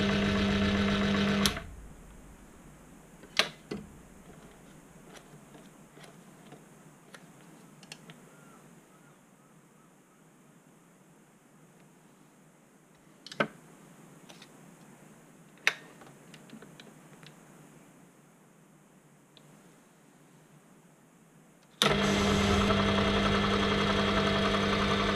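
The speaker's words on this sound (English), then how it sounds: "I set up a second pass slightly deeper to make the scratch marks." A Proxxon milling machine makes a cutting pass, running as a steady band-limited mechanical whir with occasional sharp ticks, framed by louder noise at the start and end.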